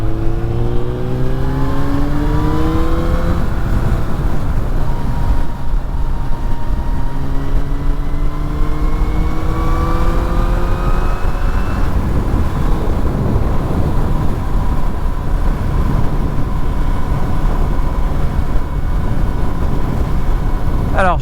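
Suzuki Bandit roadster motorcycle pulling onto the motorway, its engine climbing through gears with rising whine before settling into a steady cruise drone under rushing wind, recorded up close.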